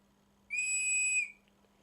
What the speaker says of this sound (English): It's got a whistle on.